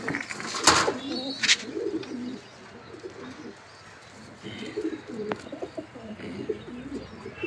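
Racing pigeons cooing nearby, soft low coos under faint background noise with a couple of sharp clicks and brief rustles.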